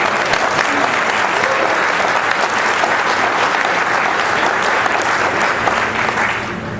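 An audience at a Star Wars collecting presentation breaks into loud, sustained applause with a few cheers mixed in, steady throughout and easing slightly at the end.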